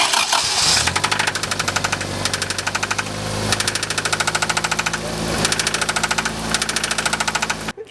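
A 1993 Toyota Celica engine, with oil in the spark plug wells, runs steadily with a rough, knocking rhythm, loud and close, after a brief start-up, with no talking.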